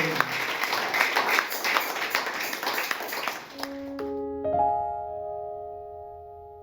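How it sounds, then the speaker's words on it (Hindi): A church congregation at a Sunday service claps for Jesus Christ, a dense burst of clapping lasting a few seconds before it stops abruptly and gives way to quiet sustained tones. "आइए हम यीशु मसीह के लिए जोरदार तालियों का आवाज दें।"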